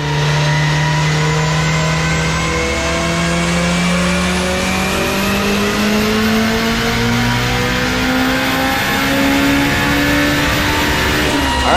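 A turbocharged car on a chassis dyno at 28 PSI of boost, making 770 horsepower, revs in one long, loud, steadily rising pull that sounds close-up and continuous.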